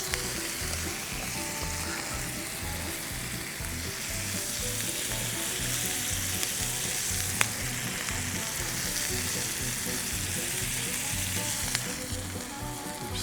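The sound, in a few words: food frying and sizzling on a grill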